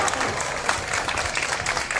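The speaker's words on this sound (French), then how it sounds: "Merci à Cassandre, merci d'applaudir et pour son témoignage et aussi pour son courage" Outdoor crowd applauding after a speech at a tribute to Saint Geneviève in front of a church, a full, continuous burst of clapping with crowd murmur underneath.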